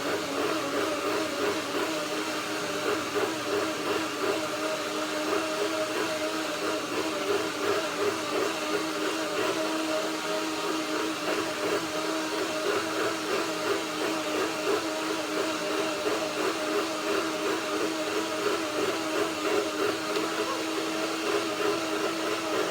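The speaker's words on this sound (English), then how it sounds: "That was the first blending, the first blender dance. It's just to break the ingredients down." A blender blends nuts, lemon and other ingredients into an almond cream, a loud, steady motor whine that runs unbroken for over twenty seconds with a slight pulsing churn.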